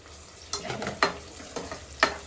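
Marinated food fries in a pan with a low background sizzle, broken by a few sharp scraping stirs about half a second apart, close and brief, with no voices.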